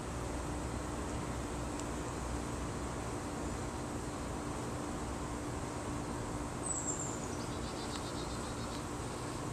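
A steady, dense buzz of honey bees at a hive fills the whole stretch, like many bees humming close by, with a brief higher whine near the end.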